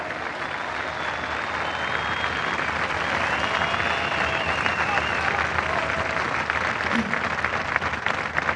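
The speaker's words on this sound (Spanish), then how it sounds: "Y aplaudan fuerte además." A studio audience on a television program claps loudly and continuously, with crowd noise and faint whistles over the steady applause.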